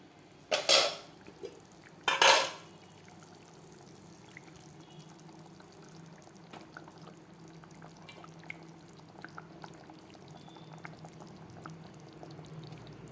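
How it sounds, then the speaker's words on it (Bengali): Boal and rui fish drop into boiling gravy with two brief, sharp splashes close together, followed by a long, quiet stretch of low simmering. "দেখো ফুটে গেছে, এখন আমি এক এক করে মাছটা ঢেলে দিব।"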